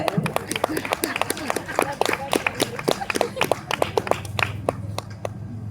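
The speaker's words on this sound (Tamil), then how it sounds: "கைதட்டுங்க." An audience at a Tamil debate stage show claps in a quick, uneven burst of sharp hand slaps for several seconds, with voices underneath.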